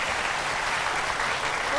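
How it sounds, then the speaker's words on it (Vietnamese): Audience applause breaking out at a live singing and bodybuilding show, a dense steady wash of clapping from a crowd, loud and close, lasting the whole brief moment. "Vỗ tay lớn hơn người đi nào."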